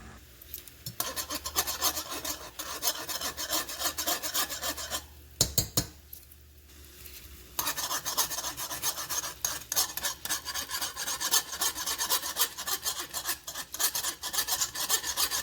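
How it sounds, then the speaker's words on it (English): Butter and heavy whipping cream are whisked together for an Alfredo sauce, a continuous rapid scraping rasp of the whisk against the pan with one brief pause. "Just going to whisk it."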